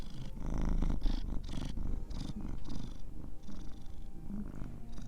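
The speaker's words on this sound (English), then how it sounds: "Do you hear him purring?" A cat purrs close up, a low continuous rumble that pulses steadily with each breath in and out.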